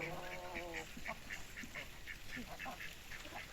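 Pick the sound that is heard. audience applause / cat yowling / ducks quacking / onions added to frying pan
ducks quacking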